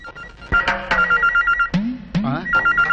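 A telephone rings in a 1998 Telugu film scene, with repeated electronic trilling bursts in a steady pattern, loud and close, while a voice cuts in between the rings.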